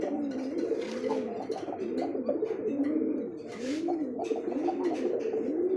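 Pigeons coo repeatedly in soft, rolling calls, several birds overlapping in a steady rhythm, fairly close with a faint background hiss, at a pigeon market.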